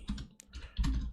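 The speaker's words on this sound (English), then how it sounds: "typing is obviously a struggle at times" Quick bursts of keystrokes on a computer keyboard, a few close, crisp clicks in an uneven rhythm over about a second, with no voices.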